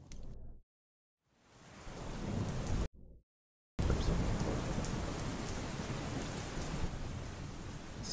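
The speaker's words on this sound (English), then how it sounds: "Do some rain background." Dense rain pours steadily with a deep thunder rumble underneath, broken by two abrupt stretches of silence before the storm resumes.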